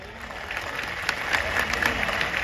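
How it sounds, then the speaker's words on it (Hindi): Audience clapping at a live Hindi comedy show, a dense, continuous wash of applause from a crowd that swells slightly toward the end, filling the whole stretch without a break. "आसमान तक ताली बजाओ"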